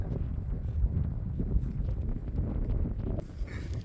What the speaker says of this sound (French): On est sur une petite crête, il y a le vent.